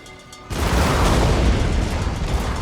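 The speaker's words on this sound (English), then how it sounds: "Another explosion from the bomb catch right over top." A sudden loud explosion bursts in after a quiet moment, then a sustained rumbling roar follows, heavy and close, slowly fading, from a bomb in the video game Napoleon: Total War.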